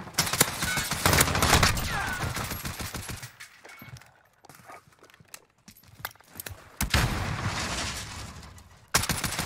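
Rapid bursts of gunfire from a shooting video game, dense crackling volleys in the opening seconds, a quieter scattered stretch, then renewed loud bursts near the end, with no voices.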